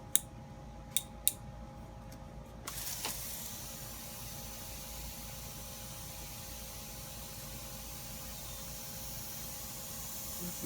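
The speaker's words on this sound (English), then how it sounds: "Next, I spray them with water and mist." A handheld spray bottle mists water over freshly planted microgreen seeds in soil, with a few sharp trigger clicks followed by a steady, faint hiss of spray.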